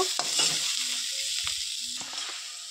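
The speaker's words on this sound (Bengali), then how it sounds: "মশলাটাকে ভালোভাবে কষিয়ে নিব।" A spice masala paste with a spoonful of tomato sauce, stir-fried in a pan for a Bengali potol chingri dish, giving a steady close sizzle with soft scraping stirs and brief clinks, with no talking.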